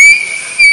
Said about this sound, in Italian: quello era un fischietto di ETV